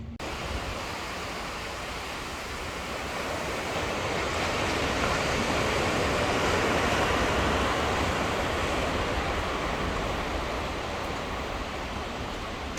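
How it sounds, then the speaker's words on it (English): Sea swell rolls in and breaks on the shore at a favoured coastal spot, a steady broadband wash of surf that swells slightly louder midway and holds constant, with no voices. "There's a nice swell just breaching in, which will be quite nice."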